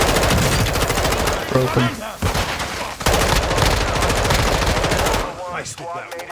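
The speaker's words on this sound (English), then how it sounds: "You are taking effective fire." Rapid automatic gunfire crackles loudly through a Call of Duty match on the Building 21 map, with sustained bursts broken by short gaps and overlapping shouted voices.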